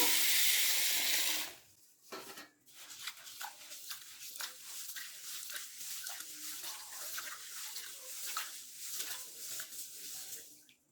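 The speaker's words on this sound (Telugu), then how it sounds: "మూడు గ్లాసులు పెసలు ఒక గ్లాసు బియ్యం తీసుకొని రెండుసార్లు బాగా కడుక్కొని" A tap gushes loudly for a moment and stops, then green gram lentils and rice are swished and rubbed in water with repeated sloshing and rattling.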